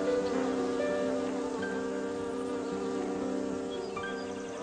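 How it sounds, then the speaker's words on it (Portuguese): Small flies buzz steadily and close in a garden, a dense, continuous insect hum with several wingbeat tones overlapping, loud throughout and alone without voices. "são moscas e voam como loucas o tempo todo"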